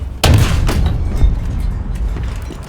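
A single sharp tank cannon shot from a SARC Mk VI armoured car with a 6-pounder gun in War Thunder, a loud near blast followed by a rumbling decay.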